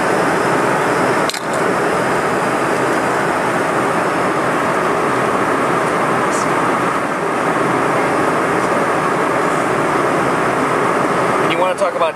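Airplane cabin in flight, a loud, constant broadband engine and air drone with a couple of brief clicks, while someone talks over it.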